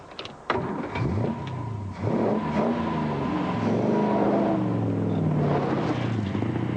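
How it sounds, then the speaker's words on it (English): Daimler Dart SP250 with its 2.5-litre Edward Turner V8 starting with a sharp catch, then revving and pulling away in a rising, throaty drone that holds loud and near. "V8 Edward Turner designed power unit is the Dart's tour de force and an absolute lulu"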